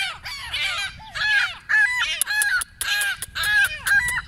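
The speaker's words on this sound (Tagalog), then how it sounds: "Nagugutom ng mga ibon." Hungry pigeons call close by in loud, harsh, repeated cries, coming in quick bursts with short gaps between them.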